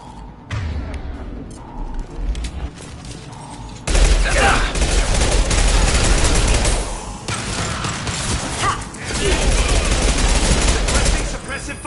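Sustained combat gunfire from the sci-fi game Mass Effect Legendary Edition, loud and continuous bursts with mechanical clatter that swell sharply after a quieter start, and a voice heard briefly among the shooting.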